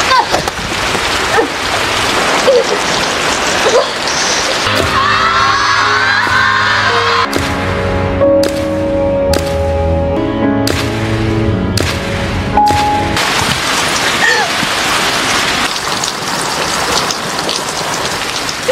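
Heavy rain pouring down, a loud dense hiss of drops on surfaces that drops out midway while tonal music and bangs take over, then returns just as strong.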